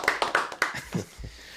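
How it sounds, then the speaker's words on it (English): A studio producer claps his hands, a quick burst of several close, sharp claps that trails off within about a second. "Our producer's even clapping."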